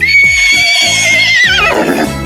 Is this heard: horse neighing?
yes